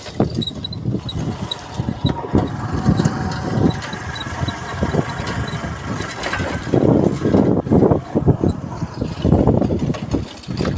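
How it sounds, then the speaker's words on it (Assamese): A motorcycle rides along a narrow path through a potato field, its engine chugging steadily with surges as the throttle opens and eases, close by and mid-loud throughout. "একদম জাক্কাছ পথাৰত বাইক চলাই দিছে"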